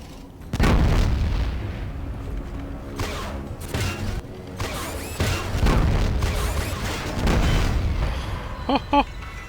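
Rocket explosions from a hoverbot in the game Fallout Tactics boom loudly one after another, deep rumbling blasts with bursts and pops, some faint talk in the background.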